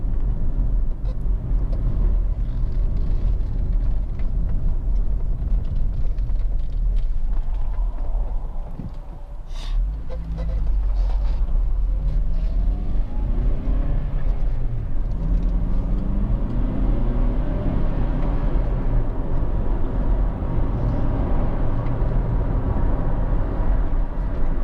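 A 2005 Honda CR-V 2.0 i-VTEC Executive station wagon cruising on the road at speed, with a steady broad engine and road roar throughout, briefly easing around the midpoint before resuming.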